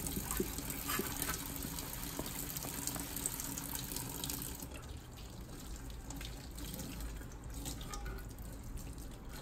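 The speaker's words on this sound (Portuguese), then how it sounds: "tô deixando a torneira ligada para ficar mais fácil aqui" Tap water runs steadily into a sink while steel toe caps are rinsed, a continuous splashing gush that stays close and even throughout with no speech.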